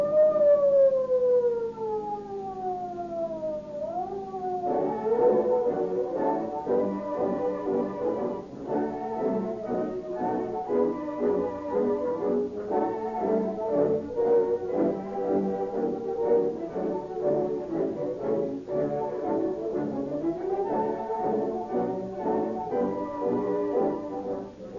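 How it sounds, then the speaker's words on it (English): Police car sirens in an old-time radio crime drama: a rising and falling wail leads into a dense, loud wall of overlapping shrieking sirens that holds steady throughout, with no talking. "you will hear police cars roaring down the street at full speed, sirens shrieking"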